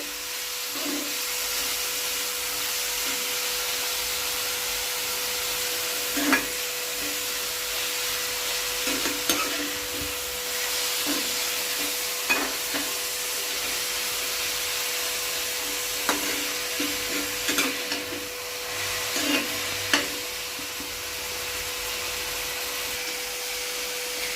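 Onions with salt fry in a pan on the stove, a continuous close hiss and sizzle with occasional soft clinks and scrapes of a spoon, no voices.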